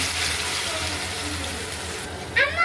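A little water is poured into spiced masala cooking in a pan, making a steady broadband hiss that runs throughout, with a brief louder splash near the end.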